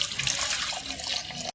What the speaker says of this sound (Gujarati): અહીં આપણે બટેકા બાફી લઈશું, 1 ગ્લાસ પાણી એડ કરીને